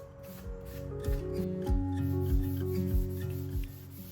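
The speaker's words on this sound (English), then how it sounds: "I'm applying the stain with a sponge in the direction of the grain" Sponge rubbing gel stain along the grain of a round wooden table top, a series of short, close scrubbing strokes in a steady back-and-forth rhythm with no talking.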